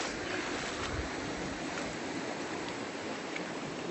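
Fast-flowing river water at a swimming hole rushes in a dense, continuous roar, close and loud, steady from start to finish.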